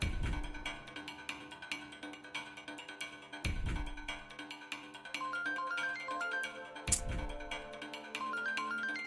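A mobile phone ringtone repeats a short melodic phrase over background music in a Marathi TV serial scene, moderately quiet and without speech.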